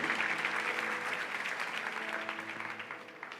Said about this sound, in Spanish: te damos el mejor aplauso de esta mañana